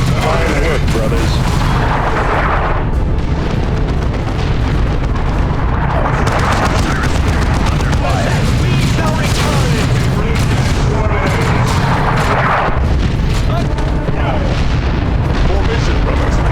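Artillery barrage explosions in the Dawn of War 2 Chaos Rising battle game, heavy booms rolling one after another across the whole stretch, dense and loud, with voices of soldiers shouting underneath.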